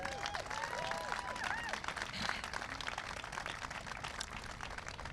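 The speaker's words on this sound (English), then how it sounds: "let's just clap on that for the moment" A Seattle crowd claps at the outdoor opening ceremony of the city's new waterfront overlook, with steady, fairly distant applause and a few voices and whoops in the mix.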